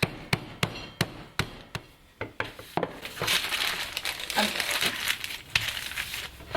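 Hazelnuts for chocolate fudge being whacked to crush them into pieces: a run of sharp, evenly spaced close knocks, then denser crinkling and crunching as the nuts break apart.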